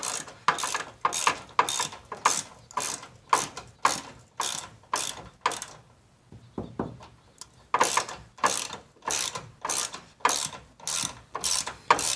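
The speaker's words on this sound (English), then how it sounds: "this is going to be 12 millimeter socket on there" A ratchet with a 12 millimeter socket tightens bolts while running boards go onto a 2016 Toyota Tundra, giving close, regular clicking strokes in bursts, with a brief pause midway.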